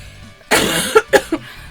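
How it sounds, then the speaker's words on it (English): One person coughs harshly at close range, a loud rough burst followed by two or three shorter hacking coughs in quick succession. "Other than this horrific cough"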